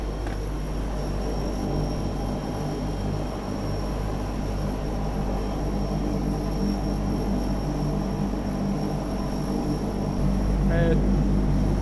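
The turboprop engines of a historic Convair 580 airliner drone steadily from inside the cockpit at a loud, constant level. A low hum swells slightly near the end.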